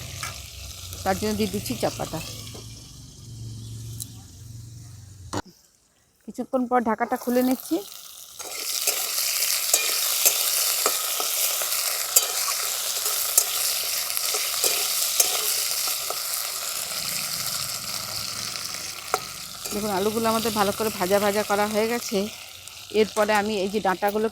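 Potato pieces fry in hot oil in a pan, giving a steady loud sizzle with occasional stirring scrapes through the middle. A person talks over the cooking at the start and again near the end.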